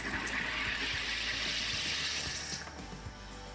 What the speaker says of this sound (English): So now it's time to fizz my water using this SodaStream machine.